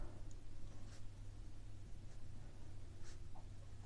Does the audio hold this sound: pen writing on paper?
yes